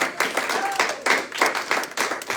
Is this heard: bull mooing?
no